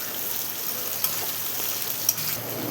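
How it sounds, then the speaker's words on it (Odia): Whole garam masala and onion fry in hot oil in a pan, a steady close sizzle with two faint clicks of a utensil, no talk. "ଏବେ ଗୋଟା ଗରମ ମସଲା ପକାଇବା, ତାପରେ ପିଆଜକୁ ଟିକେ ଜାରିବା ଭଲ କି"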